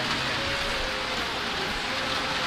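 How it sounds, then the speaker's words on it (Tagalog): Heavy rain pours steadily during a typhoon flood in a flooded neighborhood with submerged houses, a dense continuous hiss with no voices. "Naulan na naman po ang lakas naman po ang ulan."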